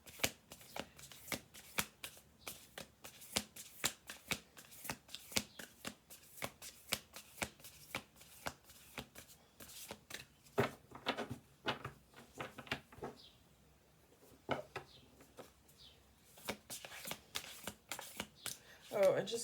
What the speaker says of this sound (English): because they're shuffling